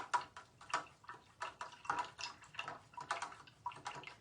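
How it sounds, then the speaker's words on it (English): A paintbrush is swished and tapped in a water cup, giving soft repeated splashes and clinks in an uneven, steady rhythm, close and fairly quiet with no voices. "I'm just gonna give my brush a rinse"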